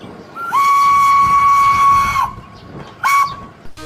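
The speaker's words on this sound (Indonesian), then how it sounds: "Ada kereta api Thomas." A Thomas toy train lets out a whistle: one long, steady toot of about a second and a half, then a short second toot after a pause. It is close and clear, with no talking.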